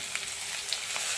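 Onions and green chillies frying in a pan, giving a continuous bright sizzle with a few small crackles, close and moderately loud, with no voices.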